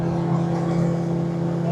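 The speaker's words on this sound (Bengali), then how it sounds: "আমরা শুরু করেছি স্পিড বোট রাইড শুরু করেছি" A speedboat's engine drones loud and steady on a boat ride on the water, a continuous close rumble with a strong low tone and no breaks, and voices can be made out under it.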